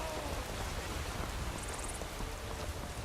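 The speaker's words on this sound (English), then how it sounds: "I mean, yes, it's raining, but it's quite clear." Steady rain pours in Skyrim VR, a dense, even hiss of falling drops with a faint patter on surfaces, continuous and close, with no voices.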